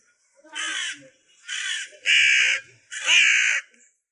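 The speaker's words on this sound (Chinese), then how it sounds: "我嫌乌鸦吵" Four loud, harsh crow caws in quick succession, each about half a second long, close by at a roadside spot where people are eating fries.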